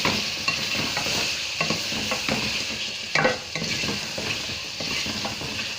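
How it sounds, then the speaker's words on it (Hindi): Minced meat with dry spices for a Sindhi potato qeema sizzles steadily in a pan while a utensil stirs and scrapes at irregular moments, close and continuous with no talking. "ऐं ही सुका मसाला पीठल सभु ये विझंदासीं गॾु भुञण में"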